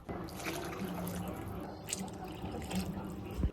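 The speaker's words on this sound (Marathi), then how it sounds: "याच्यानंतर याच्यात पाणी ऍड करूया." A steady stream of water runs and splashes into a pot of rice for khichdi, close by, with faint background hum.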